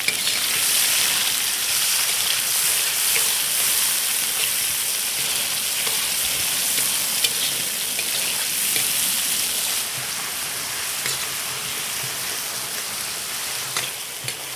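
Chopped onion and green chilli fry steadily in hot oil in a pan for a chicken curry, giving a dense, continuous sizzle and crackle that stays close and even throughout, with no voices.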